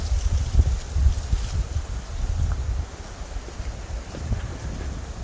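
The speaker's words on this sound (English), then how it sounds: "the wind's picked up some" Wind gusts across a state park hiking trail in Arkansas, a low rumbling buffet on the microphone that swells and eases without pause, with no voices.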